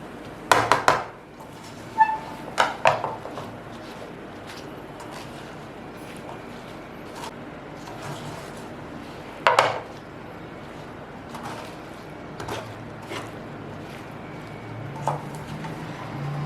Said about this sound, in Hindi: अच्छे से आपने तमाम भिंडियों को मिक्स कर लेना है।